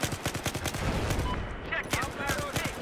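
A helicopter's mounted gun fires in Battlefield 4, bursts of rapid, punchy shots rattling in quick succession, then sparser reports with faint voices mixed in.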